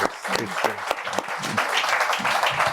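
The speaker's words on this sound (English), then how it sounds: "Please join me in giving Bill a round of applause." An audience at a financial conference applauds a speaker: a clear round of clapping with some sharp individual claps near the start, thickening into steady applause, with a voice briefly heard underneath.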